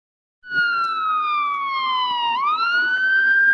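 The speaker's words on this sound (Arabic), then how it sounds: "يا عربية الإسعاف دي" An ambulance siren wails in a children's cartoon, a loud steady electronic tone that slowly falls and then rises again, heard alone without speech.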